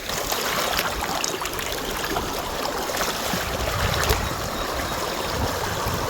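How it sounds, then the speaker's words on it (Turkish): Broadband rushing water from a noisy stream flowing close by in the countryside, a steady loud wash with no talk over it. "şöyle dere yanımda çağır çağır akıyor"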